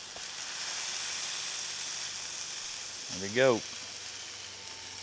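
Sous vide steak sizzles steadily on a hot griddle, a continuous close hiss throughout, with a brief spoken remark over it near the end.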